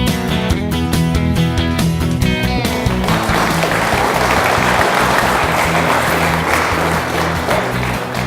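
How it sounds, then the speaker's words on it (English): Sustained applause from a crowd at a Cow Palace livestock show after a heavyweight division is judged. It is loud and steady throughout, with music playing over the first few seconds. "Give them another big round of applause."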